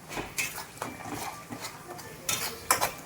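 A spoon or spatula scrapes and clinks against a pan while paneer masala is stirred, giving irregular metallic scrapes and taps, close and fairly loud, with no talking.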